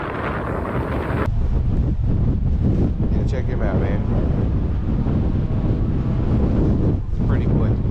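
Strong wind buffets and roars across the microphone at a spillway, with rushing water underneath. The gusty noise stays loud and constant while someone talks briefly.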